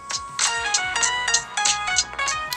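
A call placed from a Galaxy Watch 5 rings through as a bright, repeating electronic ringtone chime, a steady run of pulsed tones close by with no talking over it.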